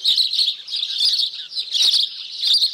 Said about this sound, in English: And what about those house sparrows in the hawthorn hedge there?